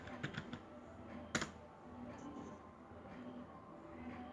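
Typing on a computer keyboard while entering HTML code: scattered quiet key clicks with one sharper tap, heard over a soft steady background hum.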